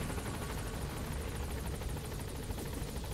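A support helicopter in the video game Metal Gear Solid V arrives with steady, loud, broadband rotor thrumming that fills the whole stretch without pause.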